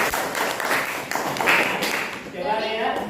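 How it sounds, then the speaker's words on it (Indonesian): A group claps hands in a classroom during a teacher performance test session, a brief burst of applause with voices talking over it. "kita beri tepuk tangan dulu untuk kelompok saya"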